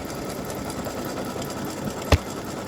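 A sewing machine stitching appliqué directly onto a T-shirt, running with a steady close whirring hum and one brief sharp knock near the end.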